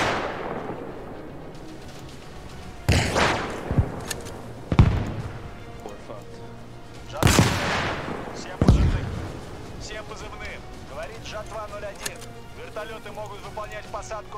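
Gunfire and RPG blasts from a tank fight in the Arma Reforger game come as several heavy booming impacts spaced a few seconds apart over a low rumble, followed by lighter scattered pops.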